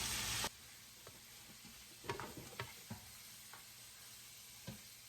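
Diced chicken thighs with onions and garlic cooking in a pan, a faint low sizzle broken by a few sharp scrapes and knocks of a utensil, quiet with no voices.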